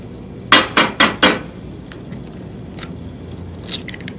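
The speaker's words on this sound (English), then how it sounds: "What do you crack on the side of the frying pan? An egg." Four sharp knocks in quick succession, like an egg being rapped against the rim of a frying pan, ring out loud and close. Fainter clinks and taps follow in a quiet room.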